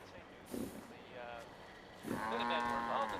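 Cow in a house in a medieval-overhaul game, giving two drawn-out moos, the second longer and more tonal, fairly faint against a quiet background with a voice talking nearby.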